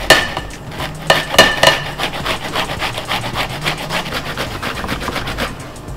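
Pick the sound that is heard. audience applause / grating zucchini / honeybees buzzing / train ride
grating zucchini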